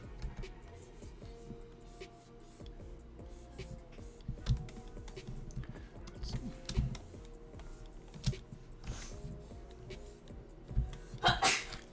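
A single sneeze bursts out near the end, over quiet keyboard typing and small desk noises.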